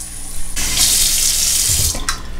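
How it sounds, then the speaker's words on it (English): Hot water running from a tap into a cup, a loud close gush that starts abruptly and pours steadily for a couple of seconds, with no talk. "get some hot water in a bowl,"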